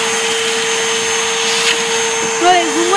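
A vacuum cleaner sucks up snow outdoors, its motor holding a loud, steady whine that wavers and dips in pitch near the end, with faint voices in the background.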